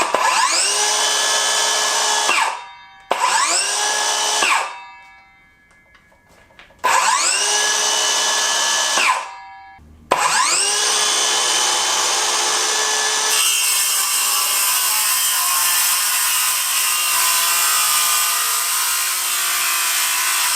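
A Greenworks 24V brushless circular saw cuts scrap 2x4s on a 4 amp-hour battery. It whines up to speed in several bursts with brief pauses between them, then settles into a long, loud, rough cut through the wood.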